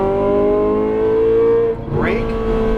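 A Ferrari 458 Italia engine roars loud and close under full throttle, holding a steady high drone before a brief dip and a quick rising sweep in pitch as it pulls on.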